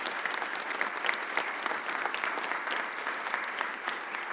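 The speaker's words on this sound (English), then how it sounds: "Please give Bob McDermott a huge round of applause." Steady applause from an audience at a mayor's press conference, a continuous moderate patter of many hands clapping at middle distance.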